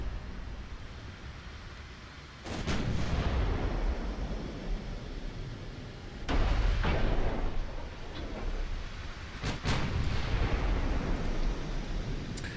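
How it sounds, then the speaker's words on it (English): Heavy battleship guns firing during a Strasbourg versus Nagato naval battle in Ultimate Admiral: Dreadnoughts, several deep booming salvos spaced a few seconds apart, each followed by a rumbling tail. "the guns fire and then go down to get reloaded, and then go back up"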